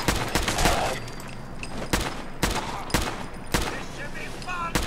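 Repeated gunfire from a weapon in the Fallout 4 video game, several sharp close shots spread unevenly across the clip over a steady background bed of game ambience.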